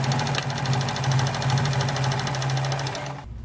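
Morse Fotomatic III sewing machine stitching through six layers of 12-ounce denim, a fast rhythmic mechanical chatter close by and steady for about three seconds, then stopping abruptly.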